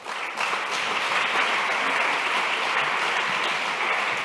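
A conference audience applauds at the end of a keynote on forced migration studies, a dense, steady wash of many hands clapping that starts abruptly and holds loud and even throughout.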